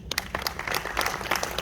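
An audience at an IFFI film festival session applauds to welcome guests on stage, with a dense, lively burst of many hands clapping and sharp individual claps standing out throughout.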